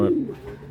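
A single short, low coo from a racing pigeon sounds close by, then fades quickly into quiet background.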